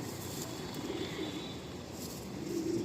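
Malwai pigeons coo softly in a quiet loft, a faint low steady murmur of cooing with a few soft calls and no talking.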